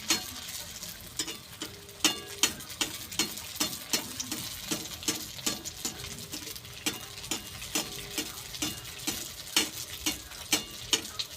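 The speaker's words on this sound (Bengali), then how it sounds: "আমি ভালো করে কাঁকরোলের বড়াগুলো ভেজে নেব" Teasel gourd fritters frying in oil in a pan: a soft, steady sizzle broken by regular ticking pops and spatters, close and fairly quiet, with no one speaking.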